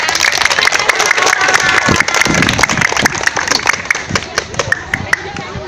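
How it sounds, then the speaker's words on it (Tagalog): Loud audience applause with dense clapping and some cheering from a crowd at a Singapore gathering, steady and full before thinning toward the end, with a voice speaking over it. "maraming salamat sa inyong malakas na palakpak"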